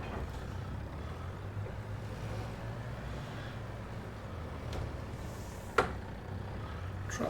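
Truck idling in Farming Simulator 22, a low steady engine rumble with a sharp air-brake hiss near the end; quiet and even, without talk.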